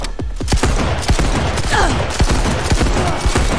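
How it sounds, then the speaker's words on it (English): Rapid bursts of gunfire in the video game Cyberpunk 2077, a loud fusillade of closely spaced shots cracking through a busy game soundscape, with no speech over them. "Heard shots."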